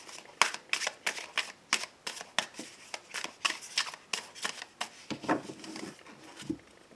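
Tarot cards shuffled by hand in a steady run of crisp riffling snaps, close and fairly quiet, with a few softer slides and taps toward the end and no talking.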